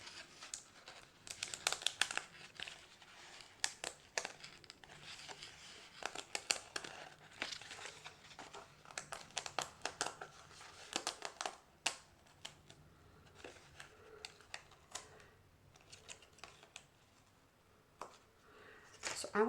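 Delicate little paper stars being peeled gently off a backing, giving soft crinkles and small tearing rustles in scattered bursts, close up, with a voice talking intermittently.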